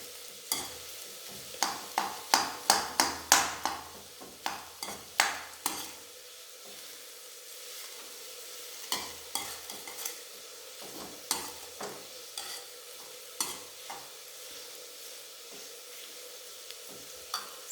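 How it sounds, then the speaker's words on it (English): Food for sambar sizzles and crackles in a hot pan, with bursts of stirring and scraping in irregular clusters, close and fairly quiet. "this is frying for the sambar"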